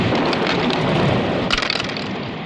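Heavy rain pours steadily and densely, and a single sharp thunder crack breaks through midway before the downpour continues.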